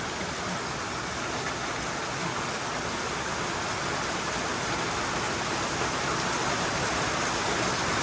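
Steady, dense rain falls outdoors where a puppy named Mickey is out in the wet weather, a broad even wash of drops that stays loud and unbroken throughout with no voices.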